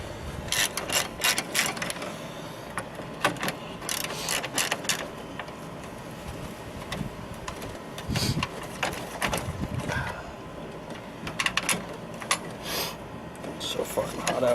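Ratchet wrench clicking in quick bursts while unbolting a transmission cooler on a vehicle, with mechanical rattles close by and intermittent talk mixed in.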